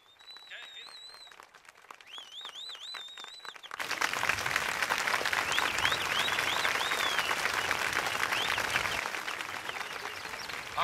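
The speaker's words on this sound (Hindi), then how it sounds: "जब मैं कट बोलूंगा ना तभी लोगों को कहना तालियां बजाने के लिए, अभी नहीं" On a Bollywood film set, faint birdsong chirps in a quiet space before a crowd suddenly breaks into loud, sustained applause that continues to the end.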